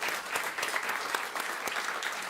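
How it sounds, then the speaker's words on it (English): Audience applause at a panel event on regenerative food systems, a steady wash of clapping from a crowd lasting a couple of seconds, moderately loud with no talking over it. "Another round of applause"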